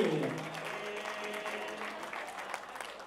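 Applause from an audience at a celebration event welcoming actor Jackky Bhagnani, moderately loud at first and settling into a steady, somewhat distant wash of clapping.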